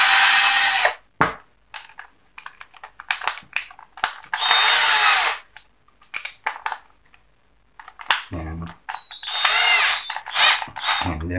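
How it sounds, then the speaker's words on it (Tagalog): A drill spinning to polish the plunger of a Yamaha Autolube two-stroke oil pump, harsh grinding bursts starting and stopping repeatedly, close and loud with rattly mechanical clicks between runs. "gamit ulit ako ng drill"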